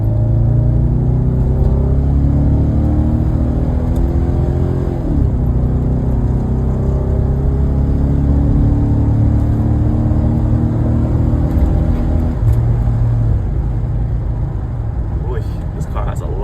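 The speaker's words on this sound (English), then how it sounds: "I'm gonna do open throttle as soon as I clear it." A Cadillac Escalade with lifter noise pulls hard at open throttle, a loud, steady engine drone and rumble with rising tone, recorded from inside the cabin without talk.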